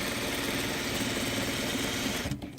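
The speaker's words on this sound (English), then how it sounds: "we're going to stitch a 1/4 inch away from this line, a 1/4 inch down one side and up the other" A sewing machine stitches a quarter-inch seam with a quarter-inch presser foot, running in a fast, steady, close mechanical whir that stops abruptly near the end.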